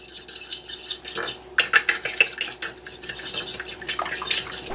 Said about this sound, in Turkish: Tuzla da bir karıştırayım